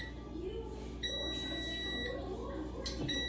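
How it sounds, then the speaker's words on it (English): A kitchen air fryer sounds a steady electronic beeping alarm, high tonal pulses repeating over a continuous low hum, close by and moderately loud. "That's my air fryer going off, y'all."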